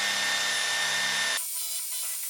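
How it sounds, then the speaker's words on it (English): A power drill fitted with a masonry bit bores into the mortar joint of a brick wall, running as a loud, steady broadband whine with tonal harmonics for over a second before cutting off abruptly, leaving only a faint hiss. "We're going to pre-drill with the masonry bit, try to go into the mortar and not the brick"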